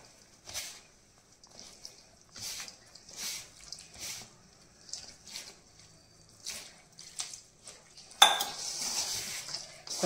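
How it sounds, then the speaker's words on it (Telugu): Sarva pindi rice flour being mixed with water by hand in a bowl: soft, close scraping and squishing strokes in an irregular rhythm, ending in a louder burst of mixing. "ఇప్పుడు కొంచెం వాటర్ వేసుకొని కలుపుకుందాం."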